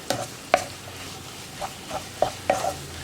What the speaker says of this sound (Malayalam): ഒരു 2 മിനിറ്റ് ഇളക്കി കൊടുത്തിട്ടുണ്ടെങ്കിൽ പൊടികൾ നന്നായിട്ട് കുക്കായി വരും